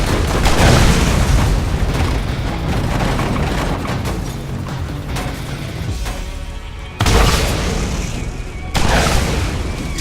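Loud, repeated booming blasts from rocket fire in the video game Borderlands, with dense overlapping explosions through the whole stretch and two sharp fresh bursts near the end.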